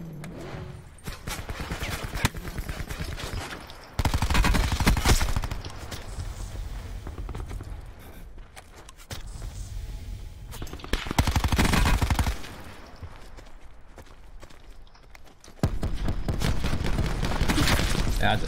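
Gunfire from the Call of Duty Blackout battle royale, with rapid bursts and heavier volleys recurring through a busy, noisy mix of shots and game sounds.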